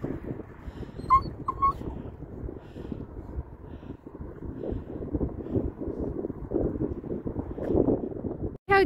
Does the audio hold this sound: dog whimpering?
yes